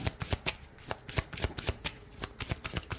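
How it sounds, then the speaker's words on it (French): Tarot cards from a Manara deck are riffled and shuffled close up. Crisp, rapid flapping bursts come in a steady run, with no one talking. "On va prendre une carte."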